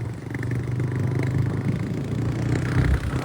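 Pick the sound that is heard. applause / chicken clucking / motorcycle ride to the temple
motorcycle ride to the temple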